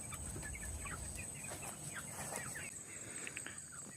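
A chicken clucks in short, scattered bursts, fairly faint and close, over a quiet outdoor background with a steady high hiss.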